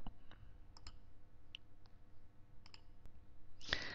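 Computer mouse clicking while working on a blog or website, several faint, sharp clicks scattered over a quiet background, with a louder click near the end.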